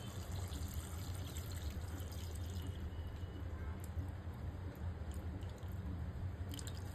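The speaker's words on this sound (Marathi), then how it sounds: "आता शिंपल्यामध्ये आपण हे शिंपल्याचं जे पाणी आहे ते आता घालूया" Clam cooking liquid is poured into clams in a pan for a Goan-style dry clam dish, giving a faint, steady trickle and splash of liquid over a low background hum.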